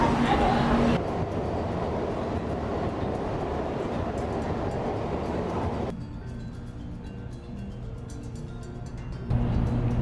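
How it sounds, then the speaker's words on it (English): Steady rumble and hum inside a moving Shinkansen in Japan, with a brief change in tone midway and a louder burst near the end. "So we are finally on the train."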